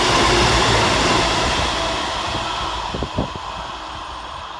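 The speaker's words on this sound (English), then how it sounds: "Next to pass through for cross country is 221132, working 1 Sierra 35 from Chichester through to Edward Waverley." A CrossCountry Class 221 diesel train passes through Shenstone railway station with a loud broad rumble and rush that fades gradually, with a brief clatter partway through.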